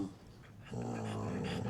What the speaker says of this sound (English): Why is everyone growling?